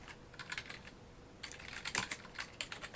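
Quiet typing on a computer keyboard comes in two bursts of quick key taps separated by a short pause, faint and close with no talking.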